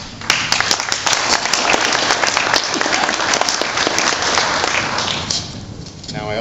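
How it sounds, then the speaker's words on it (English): Loud, sustained applause from a meeting audience gathered over Asian longhorned beetles in Bethel, Ohio, dense clapping that stays steady for several seconds and thins near the end, with some voices mixed in. "I think you all deserve a round of applause."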